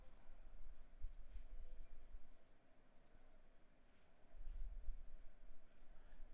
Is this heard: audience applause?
no